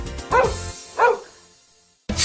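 A dog barks twice, loud and close, with a short pause between, then a third bark starts right at the end.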